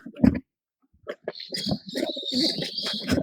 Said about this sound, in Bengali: এখন আমি গুলো ছেড়ে দিব